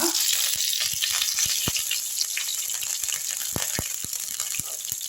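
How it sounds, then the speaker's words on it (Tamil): Cinnamon, fennel and cardamom frying in hot oil for a white chickpea vada curry: a steady bright hiss of sizzling oil peppered with sharp, irregular crackles and pops, close and continuous. "இந்த பட்டை சோம்பு ஏலக்காய் இதை போட்டுடலாம் நல்லா பொறிஞ்சு வரட்டும்"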